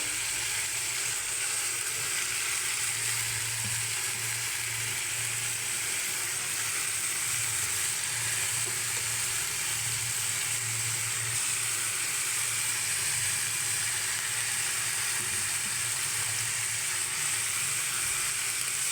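Banana flower frying in a pan, heard as a constant close hiss and sizzle that stays steady and unbroken, with a low hum underneath.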